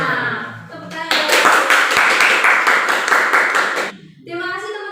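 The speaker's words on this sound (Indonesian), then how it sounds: "Tepuk tangan." A short burst of group clapping from a small audience after a roleplay exercise, loud and close, lasting about three seconds between stretches of talking.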